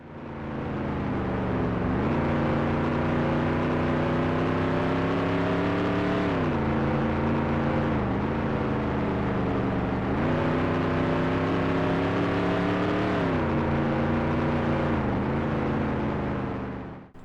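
Race car engines roaring through a lap in NASCAR 98, a loud continuous droning whine that rises and falls in pitch as the car shifts and accelerates through turns, steady and close with no talking.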